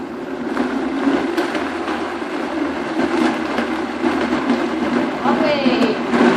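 Blender whirring as it purees a ginger and garlic remedy with water: a loud, close, continuous motor drone with a grinding rattle that shifts slightly as the speed is raised.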